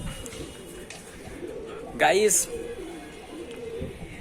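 Someone talks throughout while pigeons coo softly nearby, with one brief louder call rising above the voice midway.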